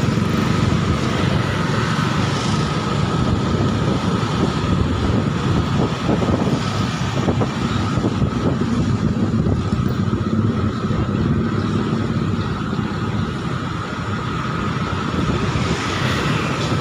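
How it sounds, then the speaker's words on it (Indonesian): Continuous dusk street traffic in Kisaran: motor engines droning and passing steadily, with no break in the busy rumble and no voices. "Cukup padat ini kendaraan,"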